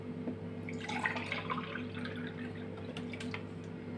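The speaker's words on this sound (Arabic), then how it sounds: "هنزل بقى بكوباية اللبن بتاعتي" A glass of milk is poured into a rice-flour bread batter, giving a faint, close liquid trickle and splash over a steady low hum, with no talk.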